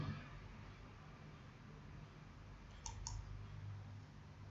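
Two quick, faint computer mouse clicks in a quiet room over a low steady hum.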